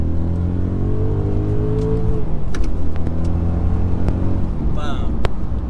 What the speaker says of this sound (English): A few more rips in the car, see what it's like with the new clutch